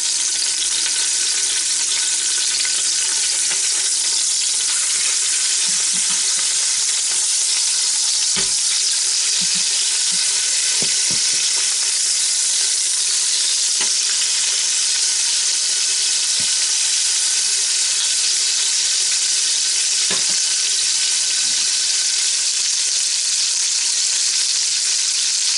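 Filet mignon steaks searing in a hot pan give off a continuous loud sizzle with a few soft clicks and bumps scattered through it.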